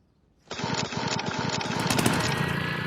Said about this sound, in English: to start the mower, you grab this pull cord like so and give it a nice hard yank